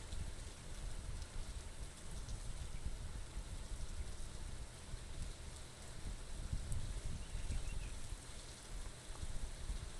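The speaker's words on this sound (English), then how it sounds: "love the sound of the rain in this" Steady rainfall in a farming video game, a soft continuous patter with a low rumbling undertone, even and unbroken, with no voices.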